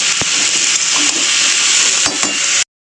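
Pumpkin pieces fry steadily in a hot pan, giving a loud, continuous sizzle with a few sharp clicks of stirring, then cutting off abruptly.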